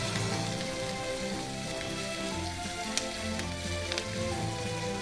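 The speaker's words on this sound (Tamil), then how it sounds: "அடுத்து வெங்காயம் சேர்க்கலாம். வதக்கி விட்டுக்கலாம் நல்லா." Onions sautéing in a pan for a simple vegetarian lunch, giving a steady rain-like sizzle with a couple of light stirring taps.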